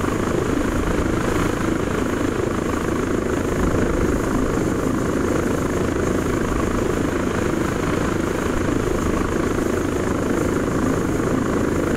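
Aircraft engine in flight through fog in the ARMA 3 video game, a loud, steady, unbroken droning hum with no talk over it.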